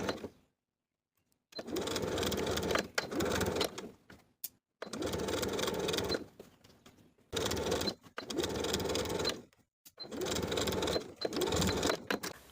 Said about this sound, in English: we can stitch in the ditch of the main collar stand seam from one side to the other